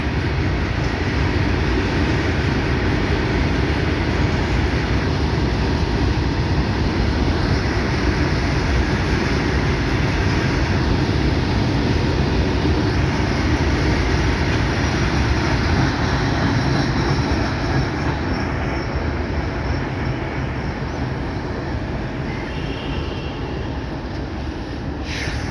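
A WDP3A diesel locomotive hauls a passenger train, giving a loud, continuous, close rumble of engine and rolling wheels on rails that holds steady throughout with no pauses.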